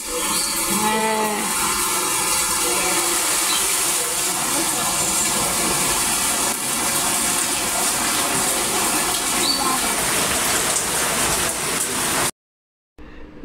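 Steady rain falls through most of the stretch, a dense continuous wash outdoors on a rainy day, cutting off abruptly near the end before a brief return.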